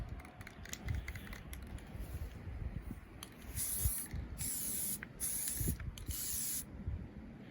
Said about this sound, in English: I'm just gonna spray mine with some matte black